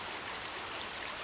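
Steady running water, like a nearby stream or small waterfall in a forest setting, fills the clip as a continuous broadband rush with no talking.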